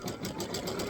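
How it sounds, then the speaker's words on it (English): Embroidery sewing machine stitching out a quilt block step directly onto stabilizer in a 5x7 hoop, a steady rapid mechanical whir with rhythmic needle pulses running continuously at close range. "now I'm going to stitch out step 2 right on the stabilizer"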